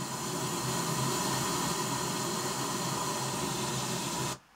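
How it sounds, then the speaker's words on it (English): Steady broadband pink noise test signal, loud and even, running unbroken for about four seconds before cutting off abruptly. "my input signal, that measurement signal, channel one, is equal to the pink noise"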